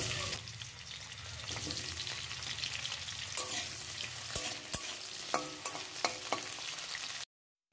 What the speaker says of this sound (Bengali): ওই কড়াইয়ের মধ্যে সামান্য পরিমাণ তেল দিয়ে দিচ্ছি কেটে রাখা আলুগুলো।